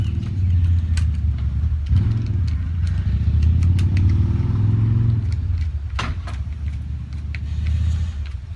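A Kawasaki ZL600 Eliminator motorcycle with a free-flowing through exhaust idles nearby, a steady low rumble with slight rises and dips, punctuated by a few clicks and knocks.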